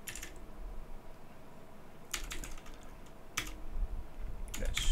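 Computer keyboard keys tapped in a few short bursts while a Linux install command is entered, crisp close clicks separated by pauses over a low steady hum.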